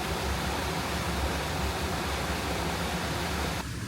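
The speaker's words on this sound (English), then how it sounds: "Small little waterfall." A small waterfall on the Lauter river rushes in a steady, dense roar that fills the whole clip, close and loud with no break in the flow.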